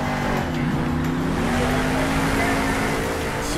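A monster truck engine in the video game Monster Jam Steel Titans 2 drones steadily while drifting through a turn, a loud continuous whine with shifting pitch.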